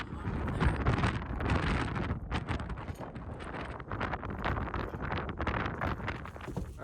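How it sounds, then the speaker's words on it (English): Strong gusts of wind buffeting a microphone outdoors beside a truck bed set up for Dutch oven cooking, a loud continuous rumbling roar with no speech. "although I'm kind of over this wind"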